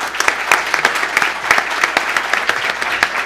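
A seated audience at a corporate governance event claps for the panelists at the close, loud and close with individual sharp claps standing out from a steady crowd wash.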